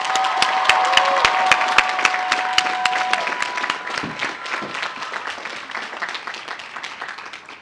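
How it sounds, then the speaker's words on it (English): Audience applause at a UCLA sociology commencement ceremony, a dense sustained clapping from a large crowd that starts loud and slowly thins and fades over several seconds, with no talk over it. "Let's take a moment now to applaud the proud family members and friends who supported you every step of the way."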